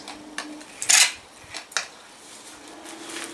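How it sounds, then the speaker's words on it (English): A broken metal weed puller poking and scraping around the edges of a cactus pot, giving a few scattered scratches and clinks, one brighter and louder in the first second, with no talking. "So I've got this broken weed puller, which I'm going to poke the edges of the pot just to loosen it up."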